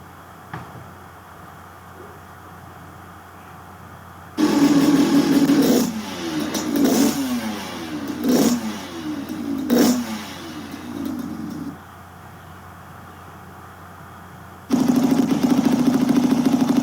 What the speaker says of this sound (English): listen carefully on the sound of that engine